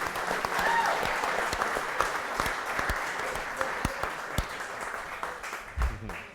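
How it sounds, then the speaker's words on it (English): A room full of people applauds chefs at the end of a 30-minute cooking round in a charity chef showdown, sustained clapping that gradually thins out, with a few brief voices underneath. "Give them a round of applause, everybody in this room."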